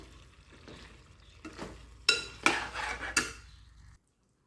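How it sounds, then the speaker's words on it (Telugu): Turmeric and chili powder are stirred into a cauliflower and chana dal curry, with spoon scrapes and clinks against the pan over a faint sizzle, growing louder in a few strokes before stopping abruptly, no speech. "కొంచెం పసుపు, 1 స్పూన్ కారం. ఒకసారి మిక్స్ చేసుకోవచ్చు."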